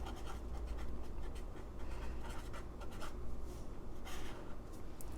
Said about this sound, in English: So I switched over to this blank page. I'm actually going to write at the top